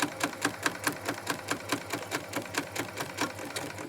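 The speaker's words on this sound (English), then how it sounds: "I'm now gliding off the fabric and stitching" Sewing machine stitching a fabric dart, a quick steady run of evenly spaced needle strokes, close and alone with no talking.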